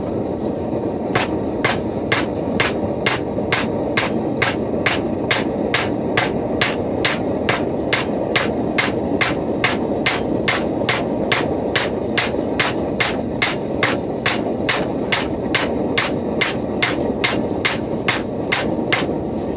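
Steady, rhythmic hammer blows ring out on a Harbor Freight anvil while hot metal is forged into a split cross, with sharp, evenly spaced clangs continuing throughout.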